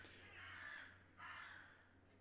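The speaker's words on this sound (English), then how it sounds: "Excuse the birds." Two drawn-out, harsh caws from crows outside, fairly faint and distant over a low background hum.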